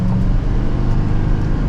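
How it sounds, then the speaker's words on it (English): A 2024 Chevrolet Silverado 2500HD ZR2 pickup accelerates to merge into traffic, its engine a steady, loud low rumble heard from inside the cab without a break. "let's give it another acceleration as if we're trying to merge into traffic here"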